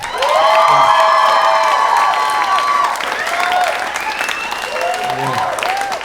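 A comedy club audience applauds and cheers, a loud burst that swells, then tapers into scattered clapping and whoops, with some voices mixed in.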